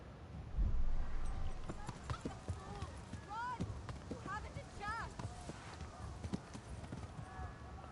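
Horse hooves clip-clop in the medieval video game Kingdom Come: Deliverance, a steady run of hoofbeats with a horse whinnying partway through, under game sounds and voices.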